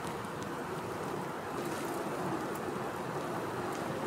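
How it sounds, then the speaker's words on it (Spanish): Rain starting with steady wind on a mountain bike trail, a constant hiss of rain, a broad unbroken rush outdoors, with faint gusts buffeting the microphone. "Está empezando a llover."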